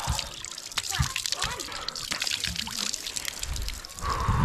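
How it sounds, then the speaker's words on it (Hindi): Cold stream water rushes and splashes near a living root bridge in Meghalaya, a steady close flow with a brief louder gush at the end, while someone talks over it. "क्या ठंडा पानी।"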